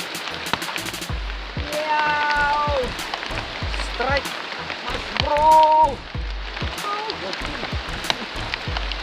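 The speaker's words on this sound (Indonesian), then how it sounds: "Rupanya hujan-hujan mancing banyak tawesnya." Steady rain falls outdoors during a river fishing trip, a constant wash of patter under intermittent voices and scattered tonal sounds.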